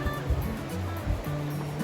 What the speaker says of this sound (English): Makes for great water noise and cool air coming off of it.